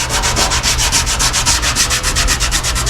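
A 1962 Impala's car body being scuffed by hand before painting: loud, close, continuous rhythmic rubbing strokes, about five to six per second, a harsh sandpaper rasp with no talking.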